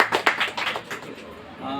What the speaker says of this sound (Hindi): आप लोग को खुद के लिए एक बार फिर से तालियां बजाएंगे